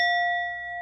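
A single bell is struck once and rings with a clear, sustained tone that holds steady and fades slightly over less than a second. No voices are heard over it.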